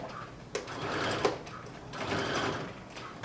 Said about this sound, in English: So I'm simply going to continue sewing.